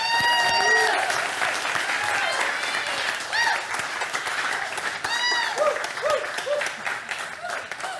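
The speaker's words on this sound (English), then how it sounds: "A big round of applause for Kelly." An audience applauds a speaker at a climate talk, with steady clapping and scattered cheers and whoops rising over it. The applause fades slightly toward the end.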